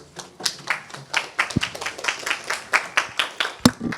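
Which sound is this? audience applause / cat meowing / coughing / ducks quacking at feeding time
audience applause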